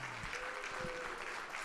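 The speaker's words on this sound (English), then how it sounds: "a loud round of applause" A conference audience at a legal marketing summit gives itself a round of applause: steady, fairly soft clapping from a crowd that continues evenly throughout, with no talking.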